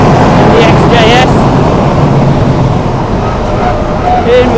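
A V12 Jaguar XJS on a flying lap of a race track, its engine a loud, continuous in-car drone with heavy wind and road roar throughout, and a voice faintly talking over it.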